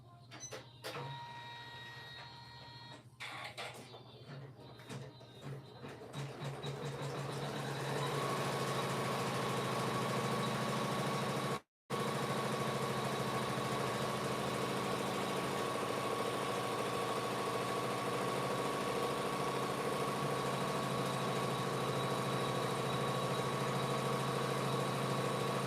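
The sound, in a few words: embroidery machine sewing vinyl in the hoop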